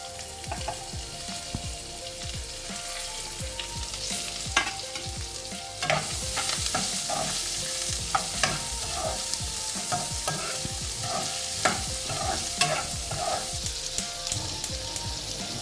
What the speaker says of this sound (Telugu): కొంచెం ఇంగువని యాడ్ చేసి, ఒకసారి కలిపేసి దీంట్లోకి ఉల్లిపాయలు మనం యాడ్ చేస్తాం